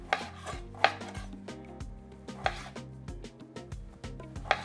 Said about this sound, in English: And then we're just gonna cut this up.